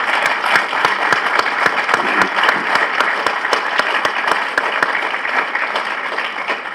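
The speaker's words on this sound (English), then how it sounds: "If you could join me in a big round of applause for them," Sustained, dense applause from an audience at the opening ceremony of the new US embassy building in Kosovo, steady and loud throughout with many sharp individual claps and no talk over it.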